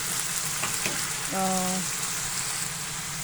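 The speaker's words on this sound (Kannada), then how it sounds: "ಟೊಮೆಟೊ ಹಾಕಿ ಒಂದು ತರ್ಟಿ ಸೆಕೆಂಡ್ಸ್ ಅಥವಾ ಒಂದು ನಿಮಿಷ ಒಂದು ನಿಮಿಷ ಇದೇ ಥರ ಫ್ರೈ ಮಾಡಿ" Tomato frying in a pan for spinach sabji, giving a continuous close sizzle with a brief tonal hum partway through.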